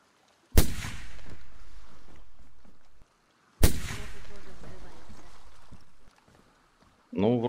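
Two loud, booming gunshots in the video game DayZ, a few seconds apart, each trailing a long echoing decay, followed by a brief burst of voice at the end.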